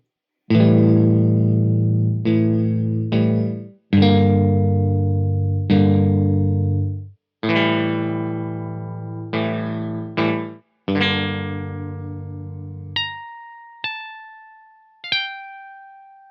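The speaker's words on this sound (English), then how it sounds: "Up first is a Harmony Rocket, which is the nicest sounding one here." A Harmony Rocket electric guitar played through effects rings out in about ten loud strummed chords and notes, each left to decay, before a few bright bell-like harmonic pings close the phrase, with no voices.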